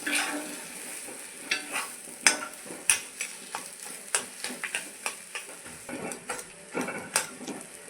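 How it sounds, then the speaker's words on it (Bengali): Spiced potato filling seasoned with salt and cumin powder frying in a pan, soft sizzling under repeated spatula scrapes and clinks against the metal, close and moderately quiet, no talking. "ভালো করে মিলিয়ে নেব, ভালো করে ভেজে নেব আমরা"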